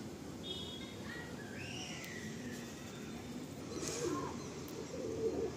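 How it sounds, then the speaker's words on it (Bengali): A Lalshira pigeon, a male, coos softly amid quiet loft ambience, with faint chirps from other birds mixed in. "দেখুন লালশিরা পায়রা, লালশিরা নর।"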